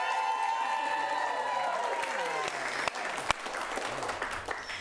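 An improv comedy audience claps and cheers in a sustained wave while a performer speaks over the noise, with a few sharper claps standing out.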